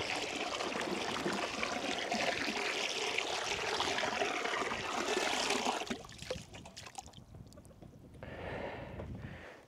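Warm water poured over thick ice on a small farm in freezing weather, a steady loud splashing gush for about six seconds, then quieter trickles and a softer second pour near the end.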